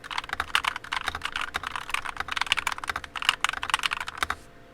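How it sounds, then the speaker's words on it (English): Fast, continuous typing on a budget Akko keyboard fitted with unlubed CS Rose Red switches, close and crisp clacks in quick uneven bursts, ending abruptly. "These are unlubed switches."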